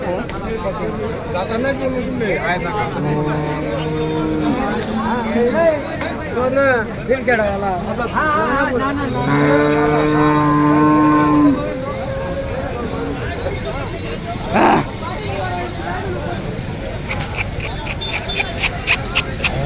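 A busy outdoor cattle and buffalo market in Chalisgaon hums with dense crowd chatter and overlapping voices, loud and continuous, with occasional shouts rising above the din.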